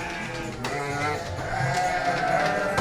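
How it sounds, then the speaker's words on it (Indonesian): Sheep bleating in a livestock pen, a few wavering, close bleats overlapping one another against steady barn background noise, with no talking. "Ini domba super ini."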